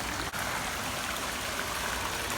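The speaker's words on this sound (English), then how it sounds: "you get that little bit of extra water and a little bit of more detail with the stream right there" A small garden stream water feature trickles steadily and close by, a continuous bright, even wash of running water with no break and no voices.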